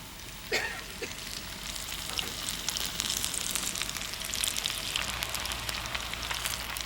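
Sweet potato fritters, strips of colored sweet potato and sweet potato stems, frying in hot oil, giving a steady close sizzle with scattered crackles and pops throughout.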